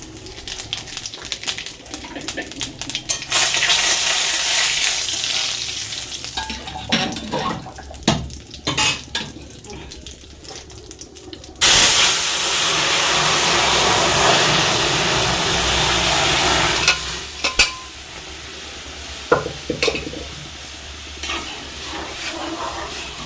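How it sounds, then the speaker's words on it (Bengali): Dried chilli, bay leaf and whole cumin sizzle loudly in hot oil in a pan. A utensil clatters and scrapes against the pan throughout, and the frying surges in two long loud bursts. No one speaks. "তার সঙ্গে ফোড়নে দেবো বন্ধুরা যে শুকনো লঙ্কা তেজপাতা আর দেবে একটু গোটা জিরে"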